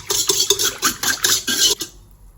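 Sugar and yeast stirred in water in a bowl, giving a series of quick scraping, clinking strokes of a utensil against the dish in an even rhythm for about two seconds, close and fairly loud, then stopping.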